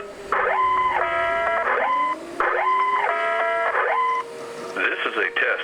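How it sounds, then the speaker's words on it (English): An outdoor electronic campus emergency siren at Virginia Western during a system test blares in repeating warbling bursts with a rising tone underneath, loud and sustained, ending with a brief noisy chatter. "The external siren is loud enough to be heard in most outdoor areas of the campus."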